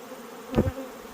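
A honeybee buzzes past near a hive entrance during a heavy September goldenrod nectar flow, a brief close hum swelling and fading over a low background drone.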